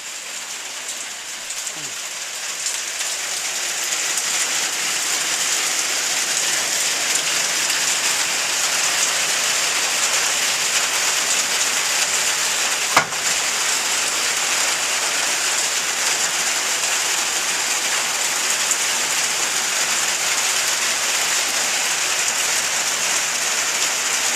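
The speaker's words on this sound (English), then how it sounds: "It's been raining all day, right?" Steady, even rain falls on surfaces for the whole stretch, a dense hiss close by, with one brief sharp click partway through.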